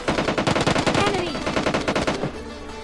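Rapid bursts of automatic gunfire in the mobile battle-royale game PUBG Mobile Lite, a dense string of sharp shots lasting nearly three seconds, loud and up close, with a brief pause before a final volley.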